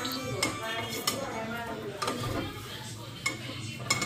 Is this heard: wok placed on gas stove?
yes